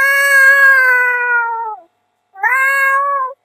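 A person mimics a cat's hostile meow when facing a dog: a long drawn-out wailing yowl that fades down, a pause, then a second shorter rising yowl, loud and close.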